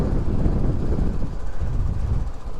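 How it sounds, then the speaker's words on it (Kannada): Strong wind buffets the microphone during a motorbike ride from Kodaikanal to Munnar, a loud, steady low rumble with gusty fluctuations and no talk. "ಓ ಗಾಳಿ ನೋಡಿದ್ರೆ ಹೆಂಗೆ ಬೀಸಿದೆ"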